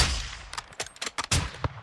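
A rapid string of sharp sniper gunshots from Call of Duty Modern Warfare 2 cracks out in quick succession, punchy and close, with brief gaps between the bursts.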